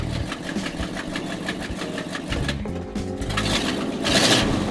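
An old 1967 Ford truck engine idles loudly and steadily, its low rumble ticking in an even, slightly uneven-firing rhythm, with a brief rise in the last second.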